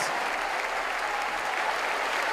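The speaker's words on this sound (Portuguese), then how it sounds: "vamos aplaudir mais, vamos aplaudir mais" A church congregation claps together during a gospel sermon, producing a steady wash of applause at moderate loudness from start to finish without pause.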